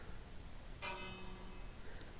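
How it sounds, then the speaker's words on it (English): A bell in the Minecraft video game rings once, a single clear metallic strike with a long shimmering decay, faint against a noisy background. "So, ringing bells."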